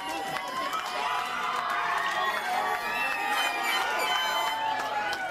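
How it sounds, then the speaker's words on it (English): Wrestling fans in an arena crowd cheering and shouting during an NWA World Junior Championship match, a steady loud roar with whistles and shrieks, commentators talking over it. "Fans cheering for Sebastian Cruz."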